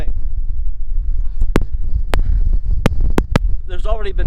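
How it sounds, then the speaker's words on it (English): Strong windstorm gusts buffet the microphone in a dense, unbroken low rumble, broken by several sharp pops; a brief voice sounds near the end. "I know it's too windy even for this mic"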